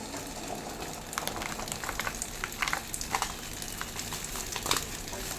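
Water boils in a pot before rice flour goes in, a continuous bubbling hiss with scattered pops and splutters at moderate, close level.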